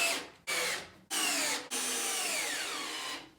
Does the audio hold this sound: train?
no